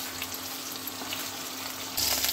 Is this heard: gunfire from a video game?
no